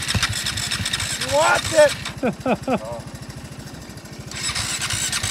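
A small three-wheeler ATV engine runs with a steady, close putter under loud talk, as if idling after starting, its rhythmic chug continuing through the clip while voices speak over it.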